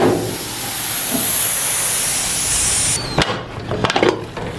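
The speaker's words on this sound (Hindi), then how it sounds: "अब हम इसकी स्टीम निकाल लेते हैं।" Steam hisses loudly and steadily from a pressure cooker of mutton karahi for about three seconds, then cuts off abruptly, leaving a few sharp clanks and knocks of the cooker.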